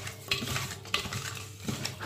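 Fish for a fish curry being hand-mixed with turmeric, spices and a little oil in a bowl, giving soft wet squelching and scattered clinks of metal utensils, close and fairly steady with no voices.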